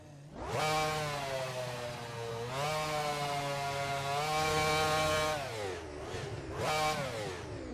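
The V10 engine of a 2005 McLaren MP4-20 Formula 1 car revs hard several times, its high-pitched whine climbing and dropping, loud and close with no voices.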